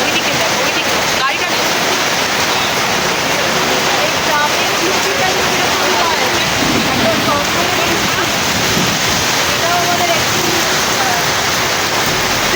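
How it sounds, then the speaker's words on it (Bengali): Heavy rain roars steadily throughout, a dense broadband wash with gusting storm wind in the Jangalmahal forest area at Kankrajhor, while a voice talks faintly underneath. "এ দেখো এটা হচ্ছে জঙ্গলমহলের বৃষ্টি"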